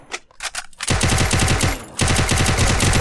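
A UMP submachine gun fires in Free Fire, starting with a few scattered shots and then breaking into two loud, sustained bursts of rapid automatic fire separated by a brief pause.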